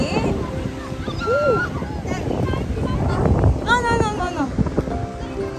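Gusty wind on a beach in Baler, Aurora, blows as a steady rumble against the microphone while people chat and laugh over it.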